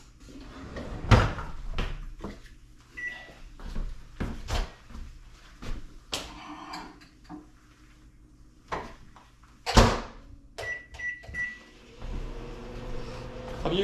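A microwave oven door clicks open and thumps shut, several sharp knocks and bumps spread out among quiet kitchen handling sounds, with a short beep.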